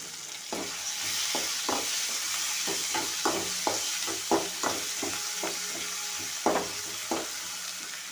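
Chopped tomatoes frying in a pan for fish curry: a loud continuous sizzle broken by a run of sharp spoon clacks and stirring scrapes against the pan, with no voices.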